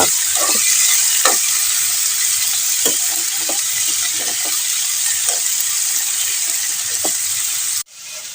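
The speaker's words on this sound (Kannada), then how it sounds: "ಈಗ ಸ್ವಲ್ಪ ಮಗ್ಚುವ." Sweet potato palya stirred in a hot pan: a constant loud sizzle runs throughout, broken by soft scraping strokes of the spoon, and it cuts off abruptly near the end.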